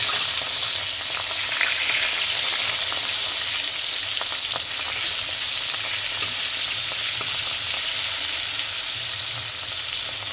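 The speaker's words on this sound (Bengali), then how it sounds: "এবারে মাছগুলো আর এক পিট উল্টে ভেজে নেব প্রথম পিট ভাজা হয়ে গেছে" Pieces of rohu fish fry in hot oil after being turned, giving a loud, continuous crackling sizzle with no talk over it.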